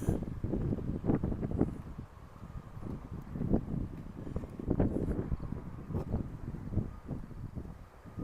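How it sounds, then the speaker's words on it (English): Steady wind buffets the microphone on a walk through Regina, Saskatchewan, low rumbling gusts rising and falling throughout with no voices. "Yes, very windy."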